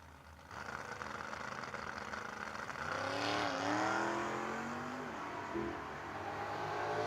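Race cars in a no-box 660 drag race, a Fox Body Ford against a Mercury Capri, revving and launching off the starting line; a loud sustained engine roar with rising pitch sweeps, heard from a distance.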